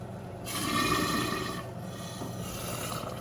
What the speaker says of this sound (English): I'm going to chunk in my dal. And that's the noise you would like to hear.